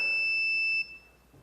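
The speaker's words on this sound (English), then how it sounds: "it again triggers the alarm, even though this is the right password." A CCTV system alarm set off by a login attempt gives a loud, sustained electronic alarm tone that stops abruptly, leaving faint room noise.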